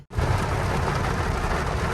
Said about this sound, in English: I know it's raining. It started raining.